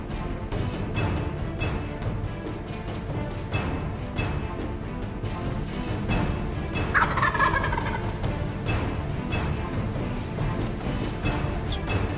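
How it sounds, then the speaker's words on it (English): Wild turkeys gobble outdoors on a hillside, with one clear, fairly loud rattling gobble standing out over steady background noise and wind. "We just heard the turkeys. They sound like they're coming up the hill."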